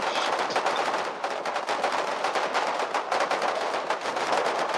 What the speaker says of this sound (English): the Warden field machine gun is suppressing that rifle garrison, preventing it from firing back